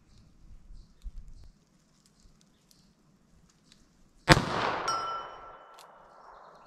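A single sharp gunshot from a .32 Smith & Wesson Long revolver with a 2-inch barrel, fired outdoors at a range, loud and close, followed by a long ringing decay, after a stretch of faint background noise.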